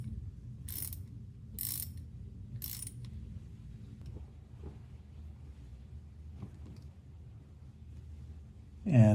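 A torque wrench tightening a Flatbike pop-off flat bike pedal gives three quick sharp ratcheting clicks at close range, followed by quieter scattered mechanical taps and handling noises.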